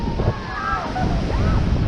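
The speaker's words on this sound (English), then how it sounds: "with strong waves." Strong waves breaking on White Beach in Boracay, a broad continuous roar of surf with wind buffeting the microphone and a voice faintly audible underneath.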